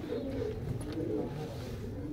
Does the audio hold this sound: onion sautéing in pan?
no